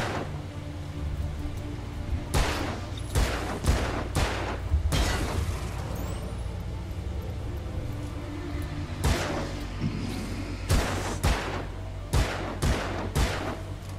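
Sharp gunshots from Alan Wake ring out in irregular clusters, single cracks and quick doublets spread across the stretch with a quiet pause in the middle, loud and close over a low ambient rumble.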